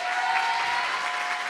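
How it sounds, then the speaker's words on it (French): Studio audience applause on a French television show, a steady, even burst of clapping for a musician that holds at a constant level throughout. "Je vous demande encore une fois de l'applaudir, s'il vous plaît."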